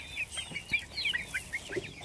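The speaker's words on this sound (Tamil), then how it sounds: "ஆதிக்குட்டி ஒரு கோழி குஞ்சு பிடி." Chickens cluck and chirp softly and repeatedly, with short bird calls scattered across a quiet outdoor background at close range.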